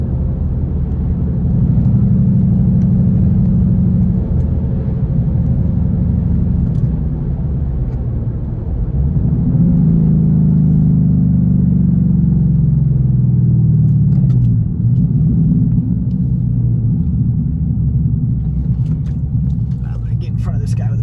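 A 2015 Ford Mustang GT drives along, its engine a loud steady low rumble that swells and shifts in pitch partway through, close and continuous.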